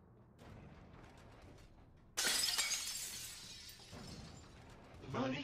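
Glass shattering in the sci-fi game Prey, a sudden loud crash that trails off into tinkling debris, with a second burst near the end and quieter game noise before it.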